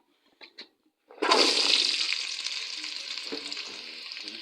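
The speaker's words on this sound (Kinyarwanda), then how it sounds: "Turaza kwifashisha guhita dushyiramo karoti, guhera kuri karoti kuko nizo zitinda gushya." Carrots hit a hot pan for a bean sauce and burst into a loud sizzle that holds steady and slowly eases, with faint stirring scrapes; a couple of soft clicks come before it.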